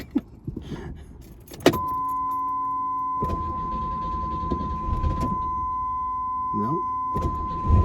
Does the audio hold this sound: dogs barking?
no